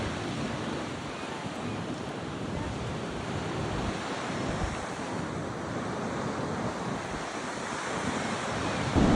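Ocean surf washes steadily onto a beach with a continuous broad roar, mixed with wind buffeting the microphone and no voices.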